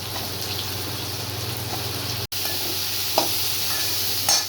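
Curry leaves and bottle gourd frying in a pan give a steady, close sizzle with light stirring scrapes, briefly cut off midway before the hiss resumes.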